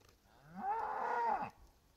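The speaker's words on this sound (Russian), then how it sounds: "А корова его зовет." A single loud, drawn-out cow moo lasting over a second, rising then falling, close by against a quiet background, as the cow calls its calf.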